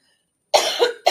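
A man coughs in a few harsh, wet bursts, close and loud after a moment of silence.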